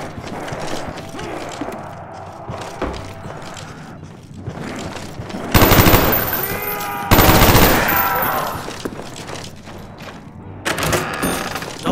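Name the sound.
shotgun fire in video game Black Ops Zombies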